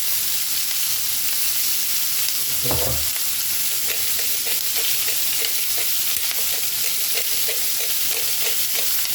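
Onions with salt fry in a pot for a lentil beef pot roast, a loud dense continuous sizzle with one thump early on and rhythmic stirring scrapes throughout, close up.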